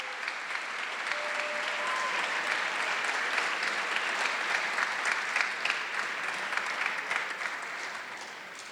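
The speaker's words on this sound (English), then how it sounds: "Let's give all these student athletes and coaches a round of applause" Sustained applause from an audience at an athletic awards gala, a steady wash of many hands clapping at moderate distance that holds evenly for the whole stretch, with a few brief whistles early on.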